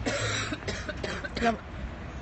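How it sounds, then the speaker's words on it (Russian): A few rough coughs and throat clearing from a nearby person, mixed with murmured speech, fading toward the end. "Мама кашляет"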